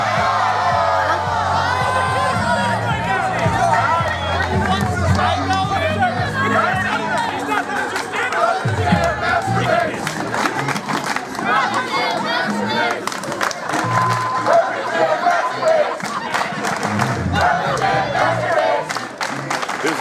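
Large outdoor crowd of university students chattering and shouting, a loud, dense hubbub with whoops and cheers rising over it, continuing for twenty seconds while a voice speaks among them.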